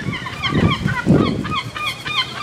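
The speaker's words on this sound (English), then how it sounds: "You get to chase the seagulls." Seagulls call at a beach, a string of loud, nasal, repeated cries from several birds close by, with no talking.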